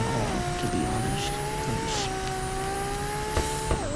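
A 1,300 whp twin turbo Ferrari 599 drifts through city streets in a driving game, its engine holding a high sustained whine that shifts pitch with throttle while tires squeal, loud and continuous without any voices.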